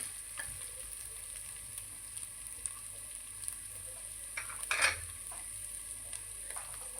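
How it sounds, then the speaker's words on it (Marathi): Whole spices fry in ghee for green peas pulao: a soft, steady sizzling hiss runs throughout, with one brief clatter partway through. "तुपात फ्राय करून घेऊया"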